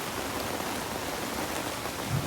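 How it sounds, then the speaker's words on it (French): Heavy jungle rain drums steadily on a leaking tarp overhead, a dense, continuous close-up patter with no voices. "au moins 20 minutes qu'il pleut fort. On est sous une bâche qui prend l'eau."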